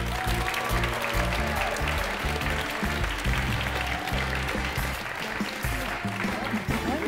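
A studio audience welcomes a TV presenter with sustained applause. Strong music plays over it, and the clapping is partly masked beneath it.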